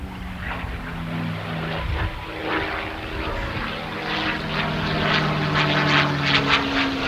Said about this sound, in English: Listen to this sound of this beautiful 12-cylinder Merlin engine, ladies and gentlemen.